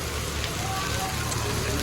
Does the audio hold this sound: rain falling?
yes